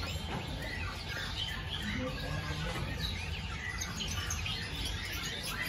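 Caged songbirds at a bird shop kiosk, including Australian finches and Papuan bushlarks, chirping and squawking continuously in a busy overlapping chorus at moderate distance.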